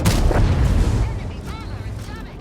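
Artillery fire in a tank battle video game: a heavy boom fades into a rumbling tail, with a voice talking over part of it.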